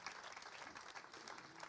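Audience applause at a New Year's wishes ceremony in a town hall, steady dense clapping throughout, moderately distant and fairly quiet, with no voices standing out.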